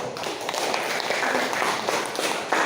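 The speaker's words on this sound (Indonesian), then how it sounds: "Tepuk tangan dulu." A class of students clapping their hands together in a classroom, a dense, even patter of claps sustained throughout at close range with little talk.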